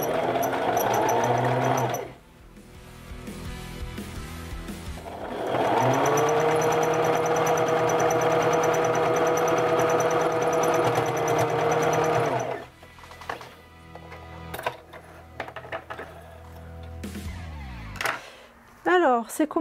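A domestic sewing machine stitches a bra, running in two long steady bursts with a short pause between, followed by quieter handling noises and a few brief clicks.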